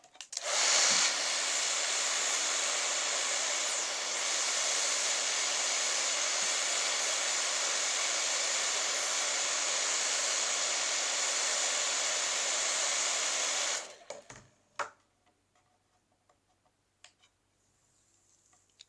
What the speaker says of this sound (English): So let's give the hairdryer trick a test.